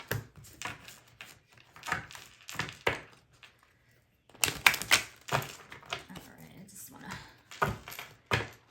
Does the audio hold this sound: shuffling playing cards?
yes